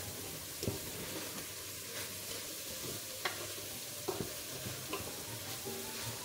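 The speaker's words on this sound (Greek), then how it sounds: "και το λάδι. Ανακατεύουμε." Octopus stirred with olive oil in a pot: a soft, continuous sizzle with a few distinct scraping clacks from a spoon against the metal, close and fairly quiet, no talking.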